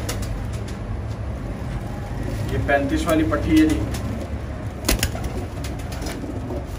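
A loft of about fifty-four pigeons from a dera lot coos softly amid a steady background hum, with someone talking over the birds throughout.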